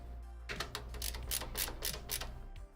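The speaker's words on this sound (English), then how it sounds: "Then we'll tighten them all down across the board." Bolts being tightened by hand during a PC build, a quick close series of rapid metallic ratcheting clicks lasting a couple of seconds, quiet and without talk.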